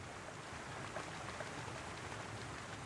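A waterfall in the strategy game Battle Realms gives off a steady, rushing wash of water. It stays constant and moderately soft, with no other sounds.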